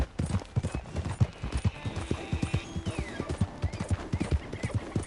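Steady clip-clop of horse hooves at a walking pace in Red Dead Redemption 2, rhythmic and close, with faint background ambience.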